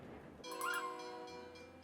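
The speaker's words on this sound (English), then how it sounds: "I want to make sure that the train gets in, which it should be in" Train arriving in SteamWorld Build, a steady tonal rumble with horn-like harmonic tones that swell briefly and then settle into a sustained drone, with no talking.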